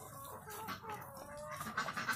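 A rooster clucks repeatedly and fairly close, with farmyard background noise throughout.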